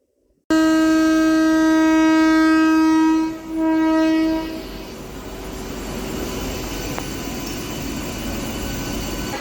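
Nearby, a MEMU local train on the Bhimavaram to Machilipatnam line sounds a loud, sustained horn for about four seconds with one brief dip, then rolls on with a steady, rushing rumble of wheels and carriages.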